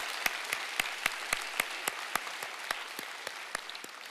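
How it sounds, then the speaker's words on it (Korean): Church congregation giving a round of applause to God during a Sunday service, sounding as sparse, fairly faint claps with distinct individual hand strikes at a steady rhythm over a soft room background. "다시 한번 우리 하나님 앞에 영광의 박수로 올려드리겠습니다"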